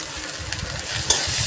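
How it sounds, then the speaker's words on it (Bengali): Ginger sizzles and is stirred in a pan with onion and garlic paste, a steady close frying hiss broken by occasional spatula scrapes. "আদাটা এতে একটু দিয়ে একটু কষে নেব"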